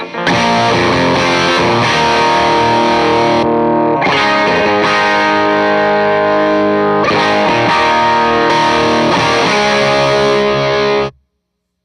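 Loud, saturated electric guitar chords ring out through a Preston Pedals MASON Supro-style preamp pedal's boost, a boosted, slightly distorted tone, with a few brief breaks before cutting off abruptly.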